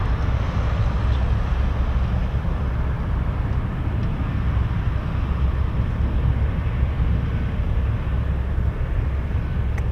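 Aircraft passing overhead near Anchorage during plane spotting, a steady distant low rumble and broad hum that holds evenly throughout, fairly faint with no speech.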